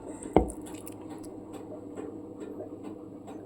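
A banana stem mixture is kneaded by hand with gram flour into a tight dough, giving soft, wet squishing and light patting sounds close by. One sharper slap stands out near the start.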